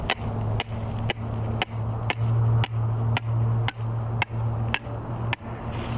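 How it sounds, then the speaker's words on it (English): A snare cable restraint anchor is pounded into the ground for fox, coyote and bobcat trapping, about ten evenly spaced sharp metallic hammer blows over a steady low hum, fairly close. "I tighten that up and pound that right down in."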